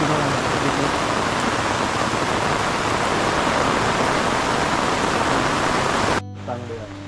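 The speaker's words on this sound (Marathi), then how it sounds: "पूर्ण सगळीकडे पाऊस नुसता पाऊस" Heavy, steady rain pours down on a Konkan forest in a constant hiss for several seconds, then cuts off abruptly, leaving only faint background sounds.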